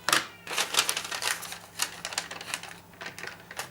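Scissors or tape being cut into three or four small pieces of tape on a cutting mat, for fixing tracing paper onto a mould; a quick run of close, crisp snips and crackles with no talking.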